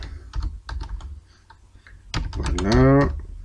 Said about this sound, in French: Ici, je ne fais surtout pas Enter, je continue à taper.